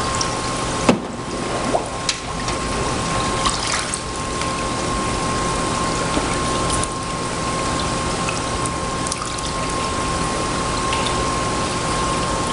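A water pump runs steadily in a hydrographic dip tank rinse, giving a constant close whir and rush of moving water with a few small knocks and no talk.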